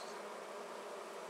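Honey bees crowd the entrance of a flowerpot bait hive, their dense, steady buzzing heard very close up and alone.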